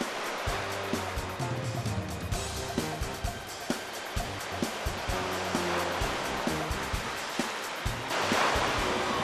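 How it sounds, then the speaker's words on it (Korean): Ocean waves wash over a rocky shore on Christmas Island, a steady loud broadband surge of surf with churning water and a swell near the end, no talking. "순식간에 밀려온 파도."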